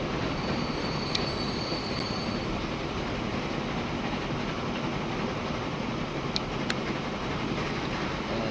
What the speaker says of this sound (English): as the train is slowly starting to pick up